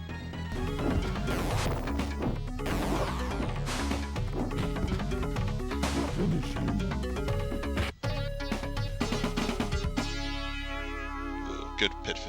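Sega Genesis Mortal Kombat 1 gameplay during a pit fatality, dense game music with loud crashing and thwacking hits, a sharp dropout near the end, then a sustained synth tone.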